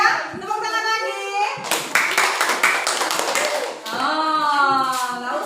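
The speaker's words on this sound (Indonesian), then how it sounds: "Tepuk tangan lagi." A classroom of children claps hands together in a burst of sharp, rapid taps, framed by someone talking before and after the clapping.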